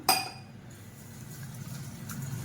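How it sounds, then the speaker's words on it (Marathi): A brief clink opens, followed by a soft, steady trickle of water pouring onto barnyard millet grains in a container, quiet and close. "वरईत आपण पाणी घालून घेऊया आता"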